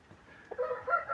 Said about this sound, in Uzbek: Yosh jo'ja, o'ta yosh jo'ja.